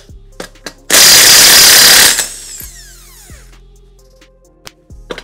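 A power tool spinning off car wheel lug nuts that take a 21 millimeter socket, one loud burst of about a second that winds down, with faint clicks and knocks of handling before and after.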